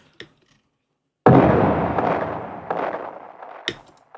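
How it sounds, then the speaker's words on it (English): A single booming explosion sound effect from a producer sample kit, used in a music track transition, bursts in suddenly and rumbles off, preceded by a faint click and ending with a sharp crack. "I also added this explosion for when it transitions into the B section."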